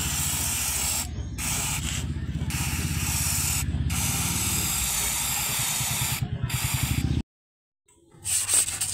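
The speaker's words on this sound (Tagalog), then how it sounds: "Brake cleaning." Brake cleaner sprayed in long continuous hissing bursts on the brakes of a 2019 Honda City, broken by short pauses, close and loud, ending in a sudden silence before a softer sound resumes.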